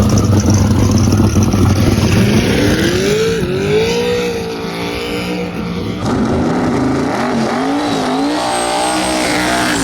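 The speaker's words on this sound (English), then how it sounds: "That was a good burnout right there." A drag car roars loudly through a burnout at a dragstrip, engine pitch rising and wavering as the tires spin, with a brief dip before the revving climbs again, close and continuous with no talk.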